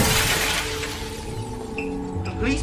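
Glass shattering as a shop is smashed up, a dense crashing burst of breakage that opens loud and tails into scattered debris, with shouting voices mixed underneath.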